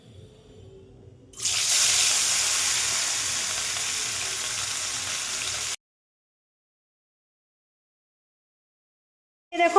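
Fish pieces rubbed with turmeric and salt hit hot oil in a pan and burst into a loud, bright sizzle that holds steady for about four seconds, then cuts to silence before a brief clatter at the end.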